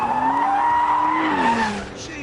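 An Aston Martin slides across a track in The Grand Tour racing game on PS4, tires squealing loudly in a long rising-and-falling wail over engine drone, close and continuous before easing off near the end.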